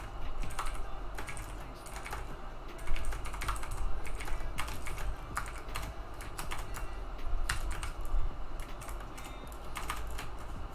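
Continuous typing on a computer keyboard while entering Java code, steady clusters of close, crisp key clicks with occasional heavier strokes, no voices.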